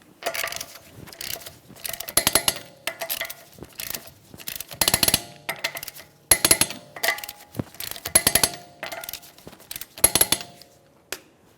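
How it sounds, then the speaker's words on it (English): A torque wrench tightening lug nuts on a 2014-2018 Mazda 3 wheel, giving repeated bursts of clicking ratchet sounds in a steady series, close and crisp, with short quiet gaps between nuts. "We'll be torquing each of our lug nuts in a crisscross manner."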